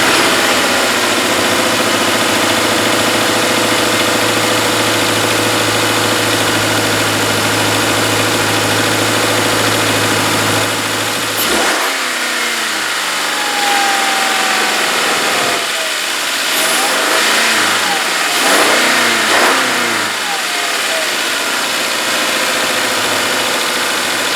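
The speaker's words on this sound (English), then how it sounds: "I'll give it a little rev just so you can hear what that sounds like." A 2015 Subaru Forester 2.5-liter engine idles steadily and loudly, then cuts off abruptly, and a few short revving sweeps follow close to the microphone.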